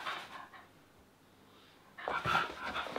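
A dog lets out a short, soft bark on command and some whimpering sounds in a quiet room, the louder burst coming near the end.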